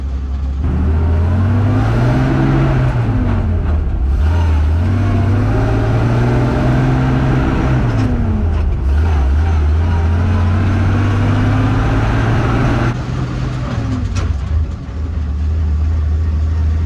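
A 1948 Dodge Power Wagon pickup engine drones steadily up close, its pitch rising and falling as the truck slows and shifts gears, with a rough, heavy rumble throughout and no talking.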